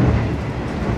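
Loud, steady rumble and rattle inside a moving Gumarang passenger train, a dense continuous roar filling the carriage with no talk.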